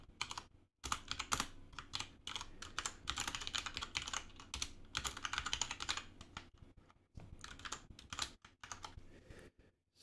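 Fast, uneven keyboard typing carries on for about ten seconds, dense bursts of clicky keystrokes broken by a few short pauses, close to the microphone and with no talking over it.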